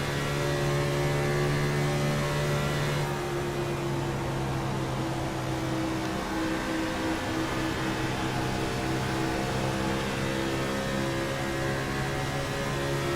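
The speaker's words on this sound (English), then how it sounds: "Yes, copy that on the engine noise." Steady engine drone from a stock car in a NASCAR Cup Series racing video game at Charlotte, a continuous loud hum with layered harmonic tones that shift slightly partway through, with no talking over it.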